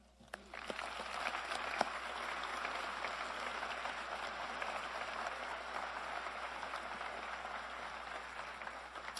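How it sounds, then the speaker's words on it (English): A crowd at a Congressional Space Medal of Honor ceremony applauds, a dense, steady wash of clapping that starts suddenly and holds at an even level throughout. "a warm round of applause, if you join me"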